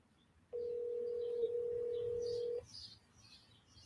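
Outgoing call to an old phone number, a single steady ringback tone lasting about two seconds and then cutting off, clear and fairly close over a quiet background.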